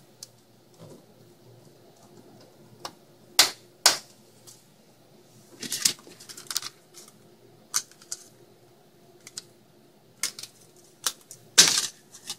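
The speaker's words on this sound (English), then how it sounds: "push down all the way until you hear both clicks" A DDR3 240-pin DIMM memory module with blue heatspreaders being pushed into a motherboard slot, giving a few sharp, close plastic clicks and snaps scattered among softer handling rustles in a quiet room.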